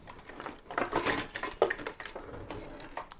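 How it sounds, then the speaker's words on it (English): A lemon is zested into butter with quick, dry scraping rasps in uneven strokes, moderately close and fairly quiet. "I am going to zest my lemon"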